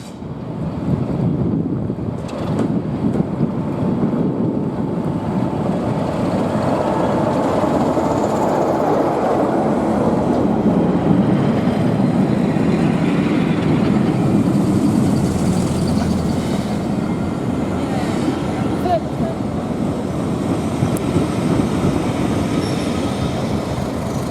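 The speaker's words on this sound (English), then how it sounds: "we see the Spa Valley's resident Class 33 Crompton 33063 RJ Mitchell heading into the station with the first train from Tunbridge Wells to Eridge" A Class 33 Crompton diesel locomotive on the Spa Valley line rolls into a station, with a steady rumble of wheels and carriages, occasional squeals and wind buffeting the microphone throughout.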